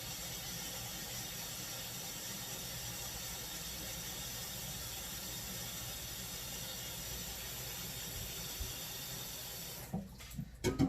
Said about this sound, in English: I'm going to pour some water into a pan or a pot.